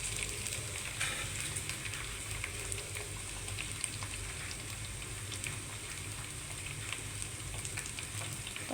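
Green chillies frying in oil for mango pickle, a steady close sizzle and crackle running the whole time with small pops scattered throughout and no voices.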